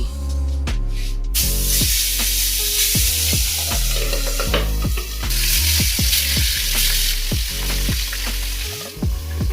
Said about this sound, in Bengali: তেলটা আমার গরম হয়ে গেছে আমি এর মধ্যে মাছের মাথাগুলো দিয়ে দিচ্ছি